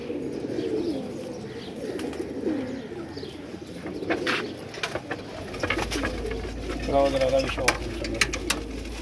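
Flying pigeons coo in soft, repeated low calls close by, with wing flutters and someone talking over them.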